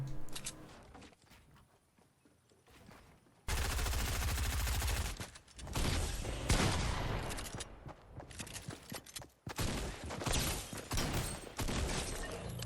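Gunfire in a Fortnite video game match: after a quieter opening, loud dense bursts of rapid shots and clatter run almost without pause to the end.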